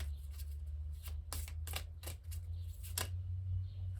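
A small tarot card deck is shuffled by hand in a series of crisp riffling bursts, several quick flutters close to the microphone over a low steady hum, no talking.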